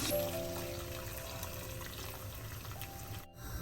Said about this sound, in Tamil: இனிமே கொஞ்சம் தண்ணி சேர்ப்பேன்.